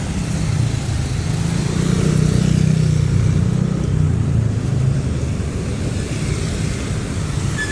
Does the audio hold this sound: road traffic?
yes